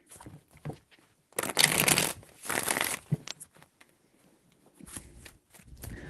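A deck of cards shuffled by hand: a few short bursts of riffling, flapping rattles separated by quiet gaps, close and crisp, with no speech.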